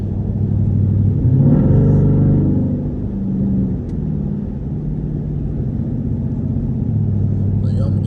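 A straight-piped Jeep with its raw, unmuffled exhaust rumbles steadily while driving. There is a brief surge of revving early on, and then it settles into a continuous low drone close by.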